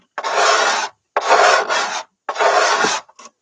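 Dirt being scraped out of the wood of a Bohemian cello during a rebuild, three loud, close rasping strokes about a second each with short pauses, then a brief final scrape.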